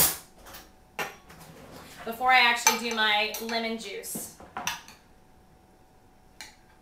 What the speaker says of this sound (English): I'm going to grab a spoon to stir